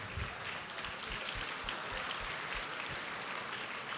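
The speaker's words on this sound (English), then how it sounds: "Please join me in giving them a round of applause for their incredible support." Audience applause at a chamber of commerce annual gala and auction, honoring sponsors: a steady, even wash of clapping from a distant crowd, held at a constant level throughout.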